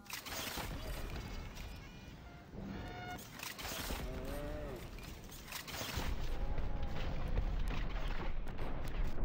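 A projectile launcher arm fires thermal ammo in a video game, giving repeated sharp booming shots amid dense game effects, chirps and background music with a steady rumble beneath.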